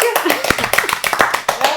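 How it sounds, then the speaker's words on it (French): A small audience gives a short, brisk round of clapping at a Lorcana card game tournament final, the claps sharp and close with voices over them. "Applaudissements public."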